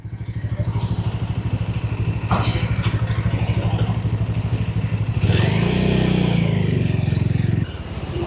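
A motorcycle engine, recorded from a helmet-mounted camera, putters along with a steady rhythmic throb. Partway through it rises into a louder revving surge, then settles again. A few clattering knocks are mixed in.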